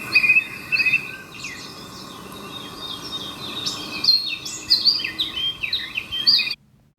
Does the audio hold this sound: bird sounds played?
yes